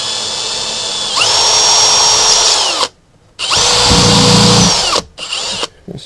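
Power drill driving screws into cedar window trim, two long high whirring runs separated by a short pause, then a brief final burst, loud and close with no talk.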